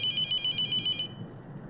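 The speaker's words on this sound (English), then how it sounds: "Phone call." In a video game, a telephone rings in rapid electronic pulses for about a second and then stops, leaving low background noise.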